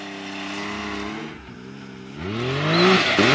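An off-road side-by-side, a Can-Am X3 or Yamaha YXZ, revs at a jump and test track in a wheelie attempt; the engine whines, dips, then climbs sharply to a loud, close, rising roar.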